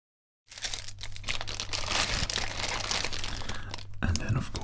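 A protective plastic bag crinkles steadily and close up as a DVD case is slipped inside, in a quiet late-night store setting. The rustling continues unbroken after a brief silent start.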